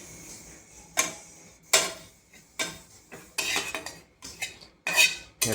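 Grated dry coconut is roasted in a pan, marked by a series of sharp metal scrapes and clinks of a spatula against the pan, spaced irregularly between quiet gaps, close and fairly loud.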